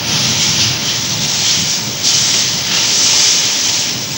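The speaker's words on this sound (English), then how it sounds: "the wind is blowing everything all over the place" Strong, steady wind buffets the microphone outdoors during a cooking trip in Zambia and South Africa, a loud continuous roar with broad hissing gusts swelling and easing throughout, no voices heard.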